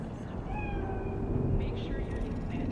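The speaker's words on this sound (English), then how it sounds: "Do you see it? The cat?" A cat meows in Cyberpunk 2077, a couple of faint mid-pitched cries heard over a steady low ambient city hum with no talking.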